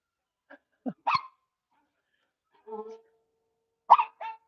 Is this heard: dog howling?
yes